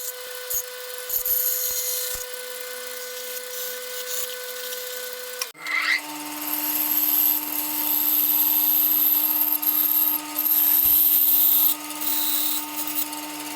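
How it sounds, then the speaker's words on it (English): A steady mechanical whine of a workshop band saw running, then a shift to a louder, higher hum as the blade bites into wood to hog out a joint, continuing with fluctuating cutting noise. "I now cut the female part of the joint, hogging it out using the bandsaw and then shaping it."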